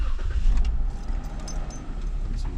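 A 2016 Jeep Wrangler engine runs just after starting, a close low rumble with a light metallic rattle riding on top, steady and loud throughout.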